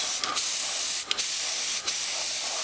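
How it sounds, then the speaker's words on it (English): Spray gun hissing paint onto a miniature Howling Griffons model, a steady close airy spray running throughout with a few brief dips between short bursts. "I start by keeping my gun back here and spraying color"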